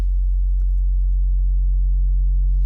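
Steady low test tone from a wavefolding audio plugin, a constant pure hum with faint harmonics above it, unchanging and alone for under three seconds.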